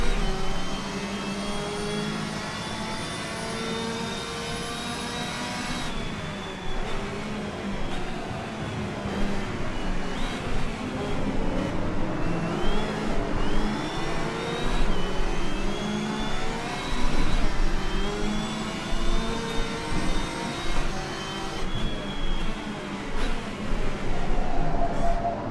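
Race car engines roar steadily during an AI race with twelve cars at Daytona in the video game Rennsport, a dense continuous drone of revving, shifting motors that swells and sweeps in pitch as cars pass.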